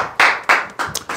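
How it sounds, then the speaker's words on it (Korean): Several sharp hand claps in a quick irregular rhythm, loud and close, ringing out alone after a classroom reading at an insurance telemarketing coaching lecture. "박수 한번 치시죠"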